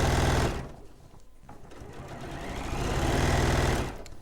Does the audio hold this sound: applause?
no